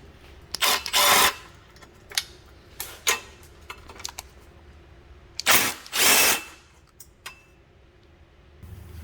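Power tool loosening two 13mm bolts on the catalytic converter downpipe of a 2007-2013 Mini Cooper Turbo: two loud bursts of whirring rattle separated by a gap, with shorter clicks and clanks between, close by and without speech.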